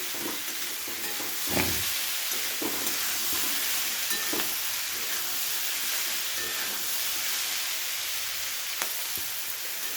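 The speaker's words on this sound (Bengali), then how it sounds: "সবজিগুলোকে খুব ভালো করে ভাজা ভাজা করে নিয়েছি" Vegetables fry hard in a pan with a little salt for a Bengali paneer and vegetable curry, giving a steady, close, loud sizzle with occasional stirring clatters and no talking.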